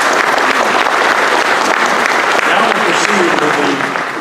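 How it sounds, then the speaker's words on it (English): Loud, full applause from an audience at a scholar-athlete awards luncheon, sustained throughout with faint crowd murmur and cheering mixed in, tapering slightly at the end. "Give them a round of applause if you will."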